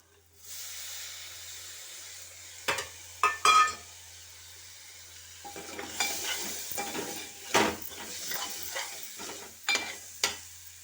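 Chopped tomatoes sautéing in a pan for a biryani gravy, a soft continuous hiss broken by several sharp scrapes and clatters of a spoon stirring against the pan.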